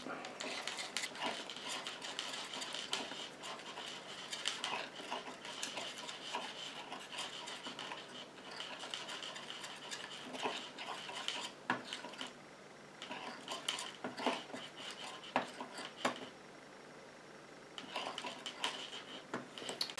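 A small utensil stirs oil into a homemade lip gloss mixture in a little container, making continuous light scraping and rubbing with scattered tiny clicks, close and fairly quiet.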